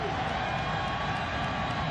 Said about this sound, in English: You're wondering where all that applause is coming from.